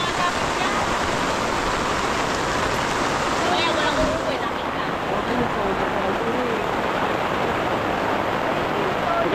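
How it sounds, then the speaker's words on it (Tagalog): Sudden heavy rain pours down on a small shop in a dense, steady roar, with faint voices beneath the downpour. "Biglaan ang lakas ng ulan."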